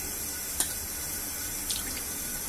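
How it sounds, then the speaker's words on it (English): Tap water runs steadily from a bathroom faucet into a cup, a constant hiss broken by a couple of brief splashes, with no talking. "I'm just going to get some more of the tap water."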